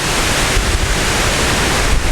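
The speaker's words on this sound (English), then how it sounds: "Okay, we have some real wind now." Loud wind buffeting an Edutige ETM 001 microphone, a rough rumbling roar with gusty surges that swell and ease, no voices.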